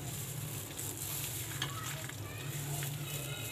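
A spoon stirs a chicken mixture in a pan with a soft, continuous sizzle and scraping throughout, fairly quiet and close.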